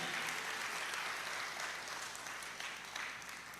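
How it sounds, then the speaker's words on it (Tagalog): Loud, sustained applause from a church congregation, dense clapping that fills the whole stretch and slowly eases off toward the end. "yung malakas na palakpak ibigay natin sa Diyos"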